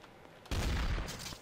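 A burst of gunfire from the video game Trouble in Terrorist Town starts abruptly midway and carries as a loud, dense volley to the end, with no talk over it.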